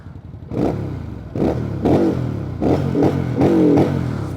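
A VOGE CU625 motorcycle engine blipped repeatedly in neutral against its soft rev limiter, five or six loud, close revving bursts in quick succession, each rising then cut back, with no talk.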